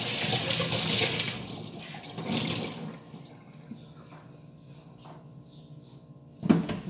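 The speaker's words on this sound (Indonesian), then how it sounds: "Nanti tinggal dimasukin airnya." Water runs and splashes into a water dispenser for several seconds, then thins to quiet, followed by a single knock near the end.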